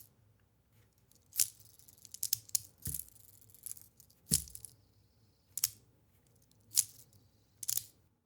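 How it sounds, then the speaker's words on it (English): Mackie Star Ship 2.0 fidget spinner gives sharp, crisp clicks in scattered bursts, about eight distinct snaps spaced irregularly against a quiet background. "if you give it a good enough kick, you get this clicking sound"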